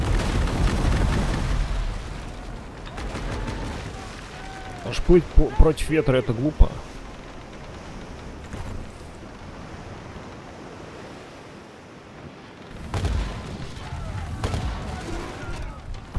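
Ship cannons fire in the naval video game World of Sea Battle, a brief cluster of booming shots in the middle amid steady wind and waves, while someone talks over it.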